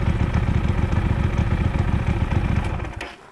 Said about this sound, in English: Listen to it on tickover.